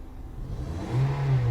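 A second-generation Toyota Vios engine idles, then revs up into a louder, rising roar near the end.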